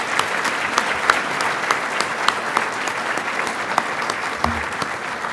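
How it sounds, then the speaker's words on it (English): Steady applause fills a gubernatorial candidate forum, a dense even wash of many hands clapping from a large seated audience, sustained and fairly loud throughout. "Please join me in a round of applause to welcome these candidates"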